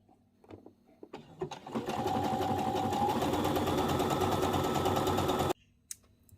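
A sewing machine runs a hem stitch along a sleeve, starting after a few soft handling clicks and whirring steadily and fairly close for about four seconds before stopping abruptly.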